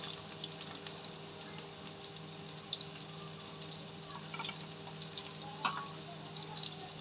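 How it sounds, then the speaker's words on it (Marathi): Garlic frying in a pan for chana saag, a soft, steady sizzle with faint crackles and a few small clinks, fairly quiet and close, with no talk. "लसूण चांगली तांबूस कलर होईपर्यंत आपल्याला करायचं आहे।"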